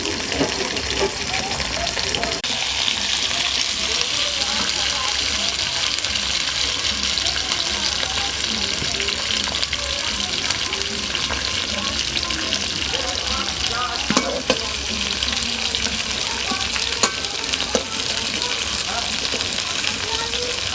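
Spices and bay leaf frying in hot oil give a continuous loud hiss and crackle that runs throughout, with people talking faintly in the background.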